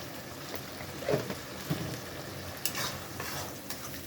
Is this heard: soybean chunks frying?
yes